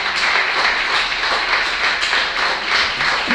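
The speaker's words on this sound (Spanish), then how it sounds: "Denle un aplauso al Señor que sana y liberta." A church congregation applauds during a Spanish-language sermon on healing, a dense, steady wash of clapping that fills the whole stretch at even loudness with no voices on top.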